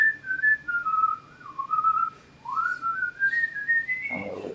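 A single sustained whistle wavers up and down in pitch as a tune-like call during a tabletop game session, fairly clear over a faint room background, ending with a soft rustle.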